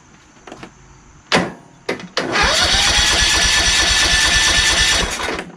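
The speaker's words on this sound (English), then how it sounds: "All right, so now it cranks." A John Deere LA120 lawn tractor engine cranks on a swapped battery, after a few clicks and knocks, with the starter spinning in a loud, steady, rapid churning for about three seconds, close up and without talk.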